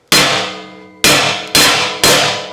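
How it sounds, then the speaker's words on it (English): Four sharp metallic hammer strikes on a plow bolt, starting it into the squared holes of a welded pivot wheel ditch filler, each hit ringing out and decaying before the next, loud and close with no talk. "take my hammer, and I'll drop the plow bolt in"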